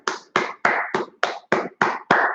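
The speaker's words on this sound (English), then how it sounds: "Clap it up real quick" A class claps in unison, eight sharp rhythmic claps evenly spaced, close and clear with no talking, during a brotherhood class session.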